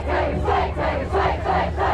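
Clemson football fans lining the Tiger Walk outside the stadium, cheering and yelling in a dense, continuous roar as players and coaches pass by, the crowd noise swelling in waves.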